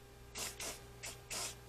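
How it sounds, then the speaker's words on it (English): Four short hissing bursts of lubricant spray from a small nozzle onto a squeaky door hinge, close and distinct, evenly spaced with brief pauses between them. "We got just a little bit of a spray that we're going to put on top of here."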